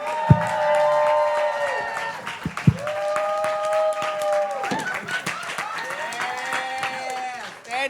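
A comedy club audience applauds and cheers at the end of a stand-up set, sustained clapping with whoops rising over a speaking voice.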